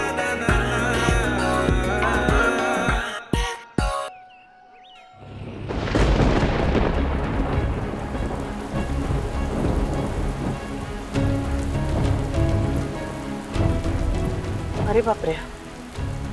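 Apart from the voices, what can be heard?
rain and thunder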